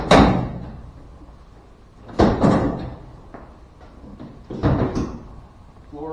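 A door on a deer handling chute slams shut with a heavy metallic bang, followed by further clanks and rattles of the steel gates, close and loud, with quieter gaps between.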